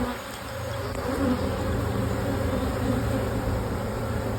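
Honey bees in a double nucleus hive give off a dense, steady buzz from close by, a continuous droning hum with no speech over it.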